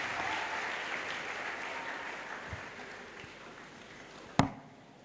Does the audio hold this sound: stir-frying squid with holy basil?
no